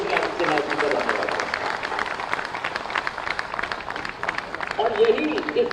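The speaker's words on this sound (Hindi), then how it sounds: "तो हम तालियों की गड़गड़ाहट से योगी आदित्यनाथ जी का धन्यवाद" Audience applause at the inauguration of an Air Asia India flight from Lucknow attended by Chief Minister Yogi Adityanath, a dense patter of many hands clapping steadily throughout and swelling briefly near the end.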